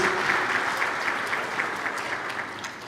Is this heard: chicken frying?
no